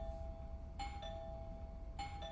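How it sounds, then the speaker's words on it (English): A two-tone doorbell chime rings twice in the horror video game Within, clear, moderately loud tones at a steady interval over a low background rumble, with no talking. "I should just ring the doorbell, see if he answers."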